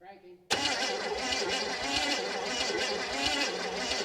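A stalled 1964 Chevrolet Impala V8 that has sat since 1983, its starter cranking the engine steadily without catching, a loud continuous churning drone close by after a brief voice at the start.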